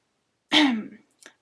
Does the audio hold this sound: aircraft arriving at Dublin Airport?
no